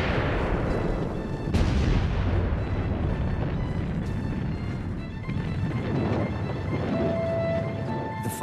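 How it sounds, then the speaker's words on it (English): Artillery shells burst without pause in a World War I battle, the Battle of the Marne in 1914, a loud dense rumble of explosions with sharper booms standing out, continuous and heavy throughout. "French shells explode incessantly in front of us."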